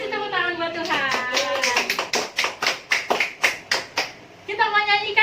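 Hands clap in a steady run of about a dozen sharp claps at a children's church service, led by a clapping host, with speaking before and after the claps.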